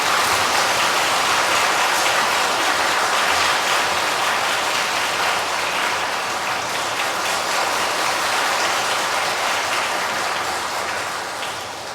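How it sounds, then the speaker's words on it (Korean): A church audience at Madu-dong Catholic Church gives loud, dense applause to welcome a priest for a spirituality lecture, a steady roar of clapping that holds throughout and eases slightly at the end. "신부님 큰 박수로 환영해 주시기 바랍니다."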